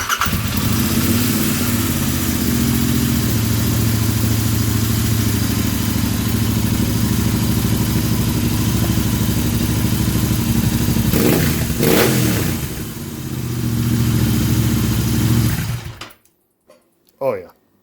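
A Royal Enfield Interceptor 650 with a 2-into-1 stinger exhaust starts warm and runs loud and close, a throbbing parallel-twin idle with blips of revving, before cutting off abruptly; a person talks over it.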